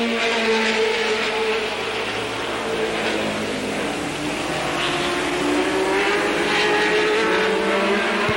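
Late model race cars roar around a short oval track in a 1985 race, engines droning continuously with rising and falling pitch as the pack passes, loud and steady throughout.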